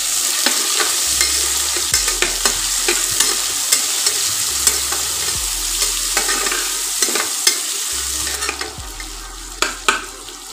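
Finely chopped onion, one large one, fries with a steady sizzle in a pan, interrupted by frequent scraping stirs and clinks of a spoon throughout, with no talking.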